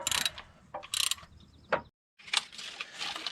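A hand ratchet snugs the bolts on a gasket on a 1993 Chevy Silverado K3500 with a 7.4-liter TBI engine: short bursts of rapid clicking pawl strokes, several separate runs with brief pauses between them, close up.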